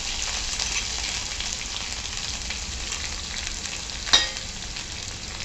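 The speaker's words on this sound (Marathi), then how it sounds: "मिरचीचा ठेचा आपला, लसूण मिरचीचा ठेचा छान परतवून घेतला" Garlic and green chilli thecha fries in hot oil in a pan with cumin, mustard seed and asafoetida, making a dense, steady sizzle with one brief scrape near the end.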